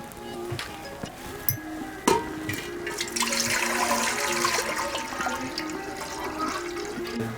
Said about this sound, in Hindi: तो मैं यहाँ सबसे पहले रख रही हूँ टोपिया और इसके अंदर डालूँगी पानी